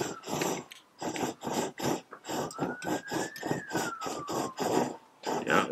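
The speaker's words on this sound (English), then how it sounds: "I can start the actual stove here. And it's a little bit noisy" A camping stove sputtering as it lights and burns on a cold snowy day, giving a rapid, regular pulsing roar with a faint wavering whine, close and fairly loud.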